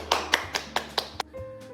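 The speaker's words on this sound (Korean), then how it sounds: "박수를 보내드립니다." Clapping in a church at a pastor's 20th anniversary thanksgiving service: six crisp, evenly spaced claps in a steady rhythm, close and fairly loud, then a quiet pause with a faint tone.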